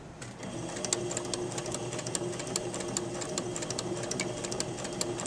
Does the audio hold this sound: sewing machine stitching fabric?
yes